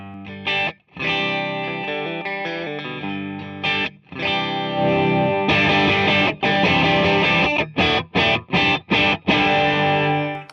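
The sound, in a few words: electric guitar through overdrive pedal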